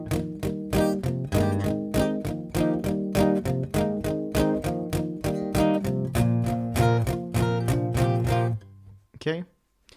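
Electric or acoustic guitar playing the opening riff of a song, a steady rhythmic strummed pattern of chords close and loud, ending in a brief pause and a short final strum.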